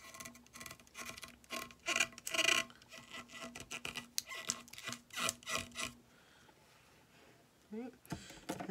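Vinyl decal being pressed and rubbed onto a rhinestone-covered Walmart water bottle, heard as close, repeated scratchy rubbing strokes in uneven bursts, with a short pause before a final few strokes.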